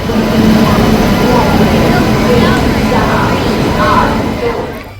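Steady low rumble and clatter of a moving train carriage, continuous throughout, with faint voices in the background.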